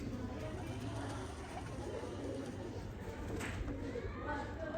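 Sialkoti pigeons coo softly from a rooftop loft, low repeated calls under some faint background noise and a nearby voice.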